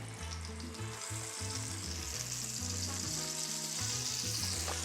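Hamburger patties frying in butter in a large pan give off a loud, steady, dense sizzle and crackle with no pauses, over a low tonal hum in the background.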